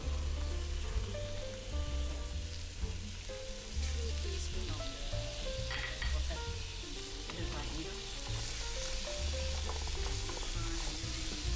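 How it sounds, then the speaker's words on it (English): Continuous crackling sizzle of food stir-frying in a hot pan with light soy sauce, oyster sauce and water, with occasional scraping and stirring, steady and close with no talking. "Continue stir frying for another 2 to 3 minutes."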